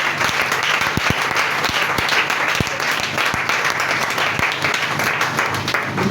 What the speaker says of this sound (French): Tu peux acclamer encore plus fort le Seigneur.